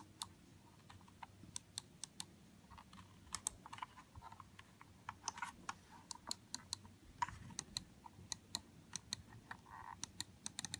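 An Aula gaming mouse wheel clicking, a string of sharp, close, irregular clicks sounding alone in a quiet room.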